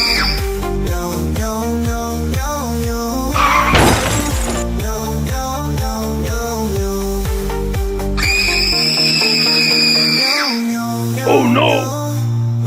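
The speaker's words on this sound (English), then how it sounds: "The monster crossed his path and crashed into their car." An animated monster toy car smashes into a car in a cartoon, marked by a sharp, glassy crash burst partway through, with busy background music and whistling tones around it.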